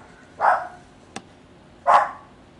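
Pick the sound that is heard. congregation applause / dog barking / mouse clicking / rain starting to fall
dog barking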